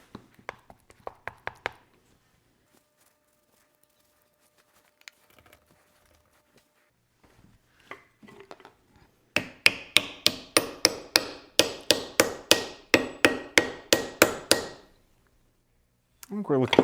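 Repeated hammer blows drive a wedge into an axe handle, a steady run of sharp, close, evenly spaced strikes after a few earlier taps and a quiet pause.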